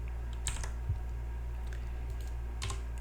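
Computer keyboard keys pressed in a few quick clusters, copy and paste shortcuts, sharp light clicks close by against a quiet room hum, no talking.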